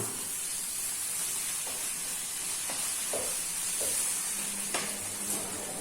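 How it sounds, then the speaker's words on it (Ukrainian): Onion, carrot and tomato fry in a pan with a steady soft sizzle and hiss, broken by a few faint scrapes and clicks of stirring. "Пожарити трошки. Щоб змішалася цибуля з морквою, ну і з томатом, звісно."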